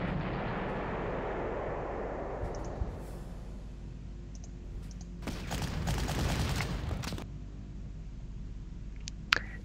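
Artillery fire in a D-Day battle in a war game, a dense, crackling barrage that swells for a couple of seconds mid-clip over a low steady rumble, with a few sharp distant clicks and pops scattered around it.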